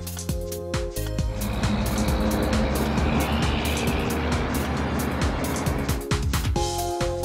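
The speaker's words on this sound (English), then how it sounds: "Towing truck." A tow truck rolls past with a broad, rushing engine and road roar that swells and holds for several seconds, loud and near, with some scattered ticking sounds over it.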